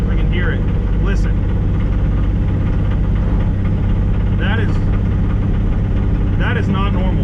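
Loud, gutted race car engine idling with a steady low rumble and a reported rod knock, with brief voices and chirps over the continuous drone.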